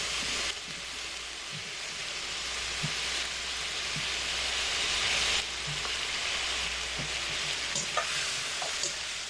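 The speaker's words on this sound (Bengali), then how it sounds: "এবার এখানে আমি ভাজা আলুগুলোকে দিয়ে দিচ্ছি।" Fried potatoes are stirred with spices in a pan for soybean muitha, with a steady close sizzle of frying and occasional soft scrapes and clinks of the spoon throughout.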